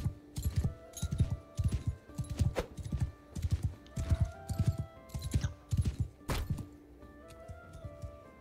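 Steady clip-clop of horse hooves in the video game Banishers, in a quick, even rhythm, close and fairly loud, with a faint whinny-like tone and soft background tones.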